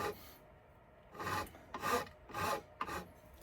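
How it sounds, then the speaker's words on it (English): Sandpaper works over the wooden stock of a Pedersoli Brown Bess musket in several short rhythmic rasping strokes, close and fairly quiet, with brief pauses between them and no talking. "And then the rest, I can sand it in from there."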